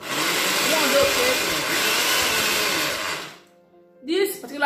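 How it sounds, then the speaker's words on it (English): Kitchen blender motor whirs loudly and steadily for about three seconds, then cuts off abruptly, followed by a short burst of nearby speech. "This particular blender"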